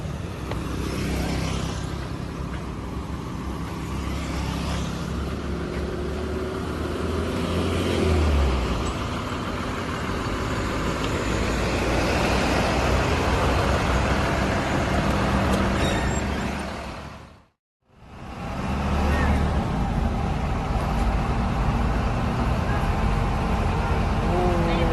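Inside a Jaya Utama New Arum Dalu bus on the road: a steady low engine rumble and traffic noise with some brief swells, a short silent gap, then the drone resuming.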